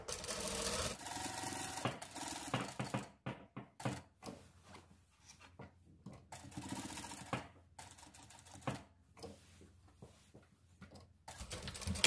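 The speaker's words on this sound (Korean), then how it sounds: "여기까지만 이렇게 봉제하겠습니다." A sewing machine stitches a sailor-collar dress in bursts of rapid mechanical chatter, stopping and restarting several times with brief quiet gaps, close and clear with no talk.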